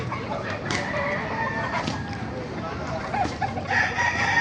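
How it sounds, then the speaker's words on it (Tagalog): Hens and roosters at a crowded poultry market in Baliuag, Bulacan cluck and crow repeatedly over a busy background, with people talking nearby. "Ito yung mga magandang heni. Mga heni. Gandang heni."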